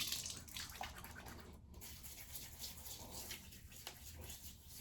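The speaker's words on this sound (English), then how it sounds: "Add a little bit of water if I'd like." Water runs steadily from a tap into a sink while a man wets his beard before shaving with a single-blade razor, a continuous close splashing hiss with no talking.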